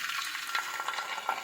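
Chicken pieces frying in hot oil for a Surbiyan chicken biryani make a steady, close sizzle with small crackles and pops throughout, with no talking.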